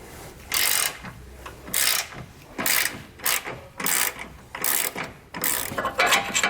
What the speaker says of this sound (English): we're going to have an 18mm wrench on this side and an 18mm socket on the other side